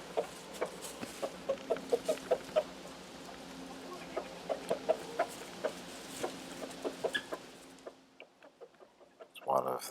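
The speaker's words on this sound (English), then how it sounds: "that's one of the silky hens in the foreground there" Silkie hens and blue English game chickens cluck in a coop, a steady run of short, fairly close clucks and calls over a low background hum that drops away near the end.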